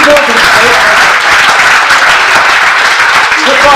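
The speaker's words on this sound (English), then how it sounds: "Once John starts clapping, everyone clap with him." A comedy-show audience breaks into loud, close, continuous clapping that stays steady and dense throughout.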